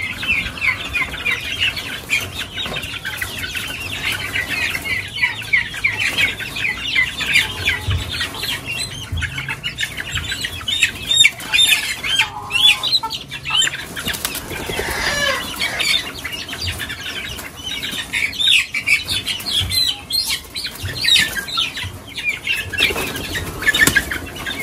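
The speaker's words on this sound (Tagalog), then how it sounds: "yung mga manok, pakwalan na natin kasi matagal-tagal na sila na nandito" Chickens being let out of their coop squawk, cluck and flap their wings in a loud, continuous flurry close by, with a rooster's crow mixed into the commotion.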